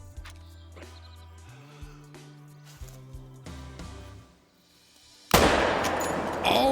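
Mosin rifle fired at a whitetail buck in the hunting game Call of the Wild, a single loud sharp crack near the end after a quieter stretch of game sounds.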